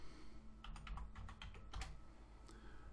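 Typing on a computer keyboard at a microcontroller teaching board, a quick burst of close, soft key clicks in an uneven rhythm, followed by a single later keystroke, quiet and alone.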